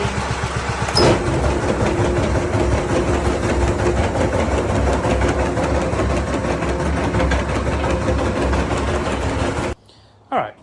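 A John Deere 345 lawn tractor with a snowblower attachment runs at low idle with its blades spinning, a steady loud mechanical drone close by for about ten seconds before cutting out.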